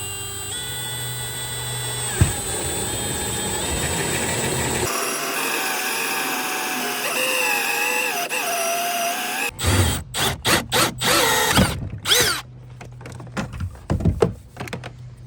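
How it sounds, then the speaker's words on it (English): Power drill boring a hole through the hull of a Native Watercraft Titan X 12.5 kayak, a steady high-pitched whine that stops midway, then short bursts of drilling and tool clatter. "I'm going to drill this hole with this very nice drill bit and this very nice drill"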